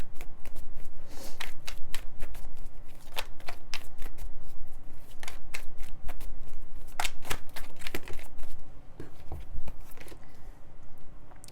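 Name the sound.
tarot cards being shuffled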